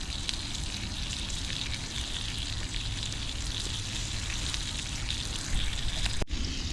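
Bacon and asparagus fry in a pan at a winter camp, a steady dense sizzle and crackle running evenly throughout, close and fairly loud, with a brief dropout near the end.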